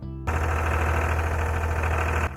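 A farm tractor's engine runs steadily close by, a loud low rumble with a constant idling throb that holds for about two seconds before cutting off.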